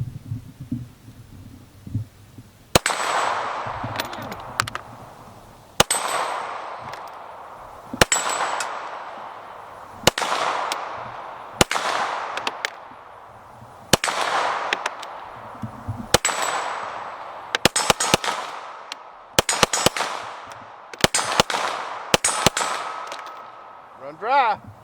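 A SARS 9mm handgun fires at an outdoor shooting range aimed at small steel paddles, a series of about a dozen loud sharp shots at irregular intervals, each ringing out with a metallic clang and decay, with faint speech at the start.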